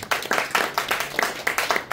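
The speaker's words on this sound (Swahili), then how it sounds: "Jipigieni makofi jamani." A church congregation claps together at a service, quick repeated hand claps in an uneven rhythm that stays loud and close for the whole moment.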